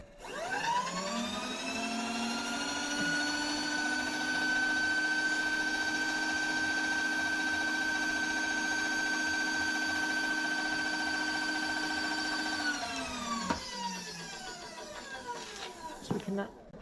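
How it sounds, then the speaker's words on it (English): A milling machine cuts a forklift carriage plate clamped in a vise, making a steady, loud, high whine with ringing harmonics for about thirteen seconds before spinning down, followed by a few sharp clanks and knocks. "I'm just going to send the table back so I can start milling again"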